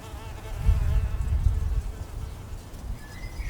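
Bees buzz in a close, continuous hum that swells and fades slightly over a few seconds, with no voices.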